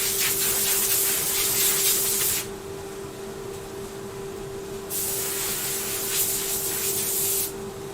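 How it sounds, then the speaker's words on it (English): An airbrush blasts dust off fresh paintwork in two long, loud hissing bursts separated by a quieter pause, with a steady hum running underneath throughout. "let's airbrush this off"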